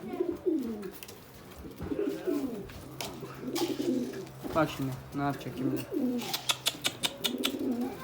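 A stray pigeon coos on a balcony in repeated soft, throaty bursts, close by, while a person talks over it and there are a few light clicks and rustles near the end.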